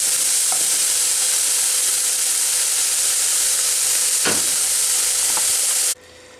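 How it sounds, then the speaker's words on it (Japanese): Onion, ginger, garlic and a bay leaf sauté in a pan for curry, a steady loud sizzle with a few brief stirring scrapes, cutting off abruptly near the end. "玉ねぎと生姜、にんにく、ローリエを入れてまずは炒めていきます"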